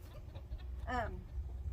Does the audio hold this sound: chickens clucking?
yes